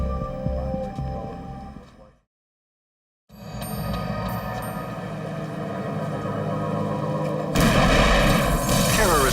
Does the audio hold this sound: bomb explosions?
yes